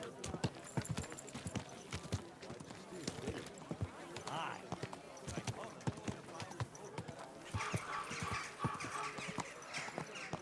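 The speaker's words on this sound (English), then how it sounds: "Easy, good horse." Horse hooves clip-clop steadily on the ground in the medieval video game Kingdom Come Deliverance 2, a brisk rhythmic walk heard beneath game dialogue and a horse's snort.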